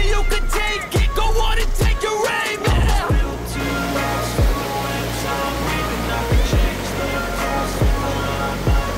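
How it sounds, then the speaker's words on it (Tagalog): Big ocean waves at a Quezon surfing area, crashing and washing in a steady roar, with occasional loud close buffets of wind. "Ayan, ganda, diba? Lalaki ng alon."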